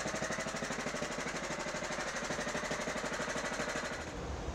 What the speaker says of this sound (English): It's like I need to adjust this to get the maximum speed I need out of the engine.